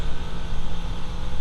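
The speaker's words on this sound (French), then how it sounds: "Alors j'ai gonflé le compresseur, c'est le bruit que vous entendez en fait, ça gonfle tout." A steady, noisy mechanical hum with a fluttering, pulsing rumble from an air compressor running close by inside a van, inflating.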